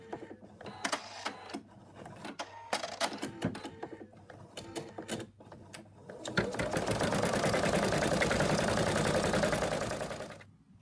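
An embroidery machine stitches the outline of an in-the-hoop zipped ladybug purse with rapid mechanical clatter, first in uneven bursts and then in a dense, steady run of needle strokes before stopping near the end.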